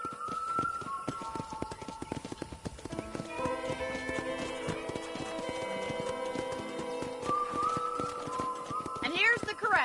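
Horses at a ranch corral in the video game Red Dead Redemption: steady clip-clop of hooves with a whinny or neigh, close and moderately loud, while people talk over it.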